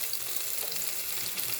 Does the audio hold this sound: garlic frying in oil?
yes